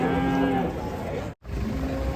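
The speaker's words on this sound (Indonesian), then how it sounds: "Arena sapi ngamuk." An angry cow being unloaded from a truck lets out a loud, close, drawn-out moo that breaks briefly and then resumes.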